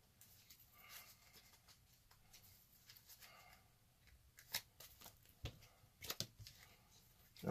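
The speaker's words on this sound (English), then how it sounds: "We're going to shuffle this up." Soft riffling and flicking of a deck of cards at close range, in short bursts with quiet pauses between them.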